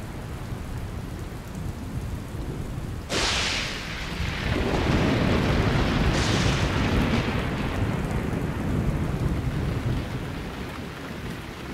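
Steady heavy rain pours down on Zambia's Liuwa Plain while thunder cracks and rumbles twice, loud and close, over the constant hiss of the downpour.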